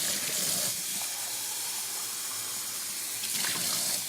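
Water runs steadily into a Nespresso VertuoLine milk frother during rinsing, a close, even splashing hiss that continues throughout with no voices.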